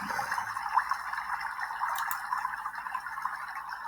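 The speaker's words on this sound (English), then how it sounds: "This is water that we recorded, I think, on one of our earliest trips, man, to Utah" Water flowing in Utah, recorded outdoors: a soft, steady trickling wash with a faint bubbling texture, continuous and moderately quiet throughout.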